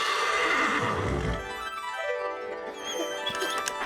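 A horse neighs loudly and close up in one long whinny that falls in pitch, followed by softer snorting and faint hoof clip-clop.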